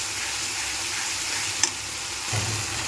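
Spice paste sautéing with a splash of water in a pan for a yam kofta curry, a constant close hiss and sizzle with one brief clink of a utensil, no talking.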